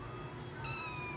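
A fluffy gray exotic Persian big-bone doll-face cat gives one short, clear meow close by in a quiet room.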